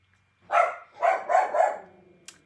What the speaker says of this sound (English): you get the added bonus of hearing the dogs freak out at people walking down the street